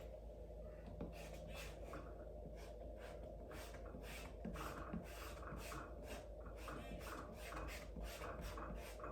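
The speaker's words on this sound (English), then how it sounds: "The kneaded eraser is nice because it doesn't erase them, it just takes a layer of graphite off." A kneaded eraser rubs across paper to lift a layer of graphite from pencil lines, giving soft, close, repeated rubbing strokes in a steady rhythm with no talking.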